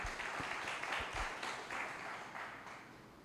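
A church congregation claps for Jesus during a sermon, a soft, somewhat distant patter of many hands that holds steadily and tapers slightly over three seconds.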